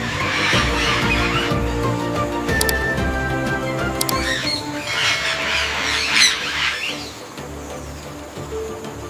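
Harsh parrot squawks ring out repeatedly over a busy background of traffic rumble and a distant city hum, the calls loud and close.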